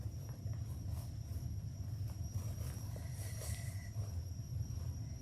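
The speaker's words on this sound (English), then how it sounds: "Ooh, you hear that train?" A train passes near a railroad track, making a steady low rumble with faint wheel squeal above it, continuous and moderately distant, with no voices.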